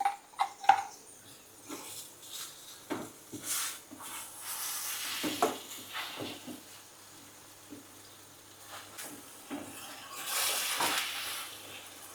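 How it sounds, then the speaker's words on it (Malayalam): Mango halwa cooking in ghee with raisins and cashews: a soft sizzle runs underneath while a utensil scrapes and stirs the pan in irregular strokes, close and fairly quiet. "ഇനി ഈ നെയ്യിൽ കിടന്ന് ഇത് നല്ലപോലെ മുരിഞ്ഞ് വരട്ടെ"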